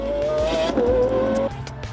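A Pagani Zonda R race car roars past at close range, its engine howling at high pitch and then dropping as it shifts or lifts off, with a brief tyre squeal, loud throughout.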